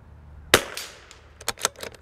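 A CZ 457 rifle firing SK Rifle Match ammunition gives one sharp, fairly distant crack, followed by a few fainter clicks and knocks on a windy range.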